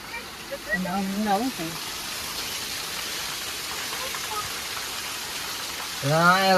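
Heavy rain in Surat pours in a steady, dense hiss. A voice is briefly heard at the start and again at the end.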